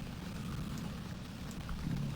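Rain falls in Viva Piñata: Pocket Paradise as a soft, steady patter, faint and even, with no talking.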